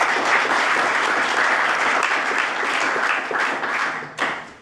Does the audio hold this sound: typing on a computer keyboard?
no